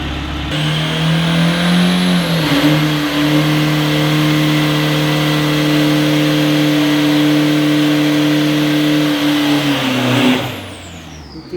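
A 2500cc diesel pickup on a drag racing practice run at the Klong 5 track, its engine roaring loud and sustained with rising revs and gear changes, then dropping off near the end.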